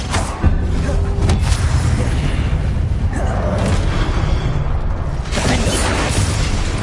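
Confringo blasting spell explosions in the Hogwarts Legacy video game, a loud continuous barrage of rumbling booms and bursts with no pause across the whole stretch.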